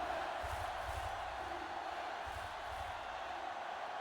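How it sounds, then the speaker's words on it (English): A simulated stadium crowd in a football video game cheers for the home team in a continuous, fairly faint roar with gentle swells, and no voices stand out above it. "this Rollers crowd continues to cheer for their home team."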